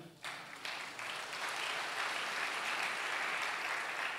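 A church congregation at a worship service breaks into applause that swells quickly and holds as dense, steady clapping with some cheering, heard from within the crowd.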